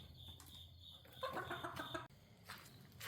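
Silkie roosters cluck softly nearby in an otherwise quiet pasture, a short burst of low clucking with faint rustling.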